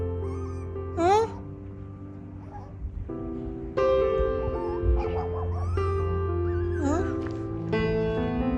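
A hungry stray puppy whimpers in a few high, wavering whines and yips that rise and fall, heard close over a steady tonal background.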